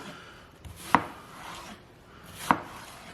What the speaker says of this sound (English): So you can start by slicing. Nice even slices here.